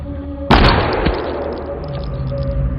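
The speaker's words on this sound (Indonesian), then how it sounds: "Mendengar ada suara tembakan, Roman dan Albert pun segera ke asal suara." A single sharp, loud gunshot in a film scene cracks out suddenly, then a reverberant tail slowly fades, with no talking.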